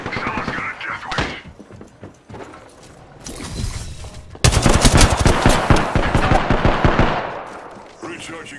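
Apex Legends gunfire: loud, close bursts of rapid automatic shots, with a long sustained volley near the end and sparse game voice lines around it.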